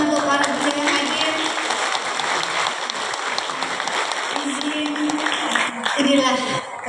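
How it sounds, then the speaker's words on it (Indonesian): Crowd applause at a Vesak 2568 BE gathering of Buddhists and the interfaith forum in Kampung Coklat, Blitar, a sustained wash of clapping running beneath a voice speaking over a loudspeaker and music. "Tepuk tangan untuk para yang hadir."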